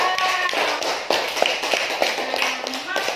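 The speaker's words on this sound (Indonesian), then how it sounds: "tepuk tangan buat Isna dari kelompok 2." Students in an Indonesian classroom clap for a classmate, a brief burst of light, uneven claps with tapping sounds, close by, under a buzz of children's chatter.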